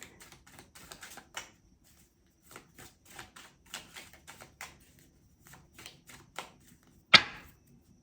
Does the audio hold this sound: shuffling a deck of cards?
yes